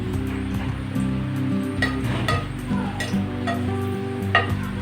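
Two dried red chillies fry in hot white cooking oil, a soft continuous sizzle with occasional clinks and stirring scrapes beneath a steady low background hum, no talking.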